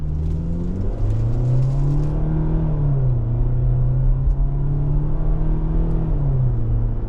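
A 2026 Kia Sportage EX compact SUV with its 187-horsepower gasoline engine pulls away from a stop, a loud, close engine drone rising in pitch, easing and climbing again through gear changes under steady road rumble.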